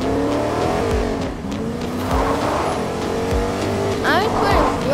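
A car in Fortnite revs and skids loudly, engine droning with tire squeals and bumps, while people talk over it.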